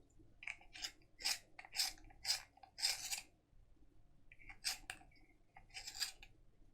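Short scratchy bursts from a white coloured pencil being sharpened, in a quick run of strokes, a pause, then a few more, close and fairly quiet with no talking.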